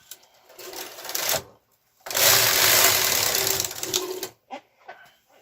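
A Brother KR230 knitting machine carriage is pushed across a row, giving a rough mechanical whir in two close passes, the second longer and louder, then a few brief clicks.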